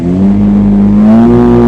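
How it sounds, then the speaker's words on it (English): Yanmar 20hp diesel engine on a vacuum tank revving up, a loud close steady drone whose pitch climbs slightly as the throttle is raised, with no talk over it. "Now you've got a throttle control here, so you bring up the throttle"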